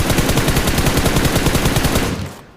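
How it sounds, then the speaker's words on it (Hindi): Rapid automatic gunfire in the battle royale game BGMI, a dense continuous burst of shots that cuts off after about two seconds. "कोई तो गोली चला रहा है दूर से"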